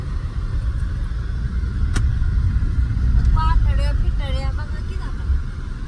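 A vehicle is driven out along a wet, waterlogged rural route, its engine giving a steady low rumble throughout while people talk over it.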